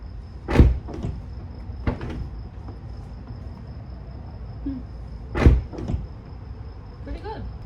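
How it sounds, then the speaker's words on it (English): Door on a Nissan 370Z with honeycomb door handles fitted, two distinct bursts of latch clicks and a thud as the door opens and shuts, close and clear against quiet surroundings. "Let's see when we open the door."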